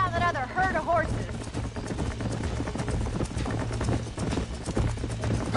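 Horse hooves clip-clop steadily in Red Dead Redemption while riders move along a herd trail, a constant trotting rhythm beneath game music, with a brief whinny near the start.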